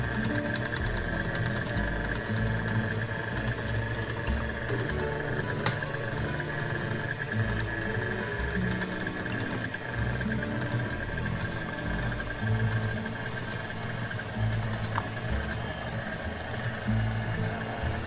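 An electric mixer creams chocolate chip cookie dough with a steady whirring drone and faint rhythmic patter from the beaters, running at a constant level throughout with occasional small clicks.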